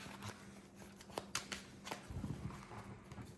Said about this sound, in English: shuffle, shuffle, shuffle, shuffle, shuffle, shuffle, shuffle.